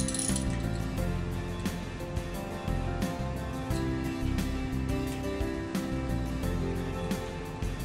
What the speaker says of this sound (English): Tighten the four center bolts in a cross pattern.